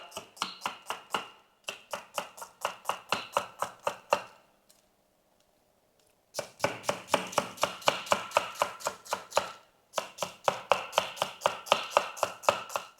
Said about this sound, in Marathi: कांदा आपल्याला उभा पात्र कापून घ्यायचा आहे जसा मी कांदा भजीला कापलाय ना तसाच